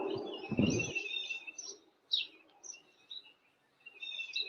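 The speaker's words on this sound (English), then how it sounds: "A lot of birds." Birds chirp and tweet in short scattered bursts, thin and high, fairly distant, with a brief low thump near the start and quiet gaps between calls.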